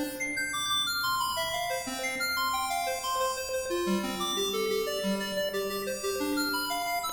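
Synthesizer arpeggio with the octave range raised to three, running as a steady stream of fast, bright repeating notes that step up and down in pitch, loud and unbroken throughout with no voice.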